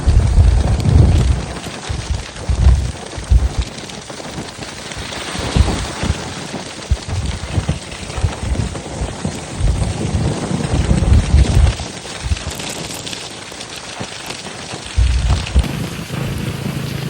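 Rain falls steadily during a motorcycle ride in misty weather, a continuous loud wash of drops mixed with low rumbling gusts of wind buffeting the microphone throughout.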